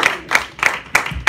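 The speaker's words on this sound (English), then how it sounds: "Y'all give me a hand clap if you can." Hands clapping in a church congregation during a Sunday morning service, five sharp claps in a steady rhythm, close and fairly loud with nothing else over them.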